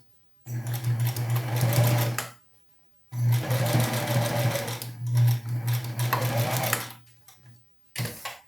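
Sewing machine topstitching a blouse hem, running in two long fast bursts with a brief pause between and a short final burst, steady rapid mechanical whir up close.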